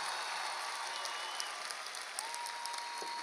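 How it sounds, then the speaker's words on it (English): Steady, dense applause from a large crowd for faculty and staff at a high school graduation ceremony, sustained and even throughout with a few brighter claps and faint cheers standing out, heard from a distance in a large hall. "The faculty and staff, let's give them a round of applause."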